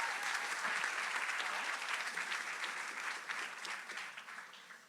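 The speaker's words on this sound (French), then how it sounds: "On peut applaudir pour Kelly." Applause from a church congregation at a baptism celebration, a steady dense clapping that holds loud and even throughout, fading slightly near the end, with no talk over it.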